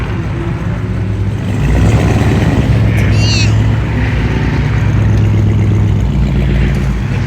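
At a Chicago car meet, a loud car exhaust rumbles and revs close by as a deep, sustained roar, with a brief high squeal partway through.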